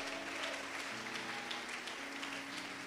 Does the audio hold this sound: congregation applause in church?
yes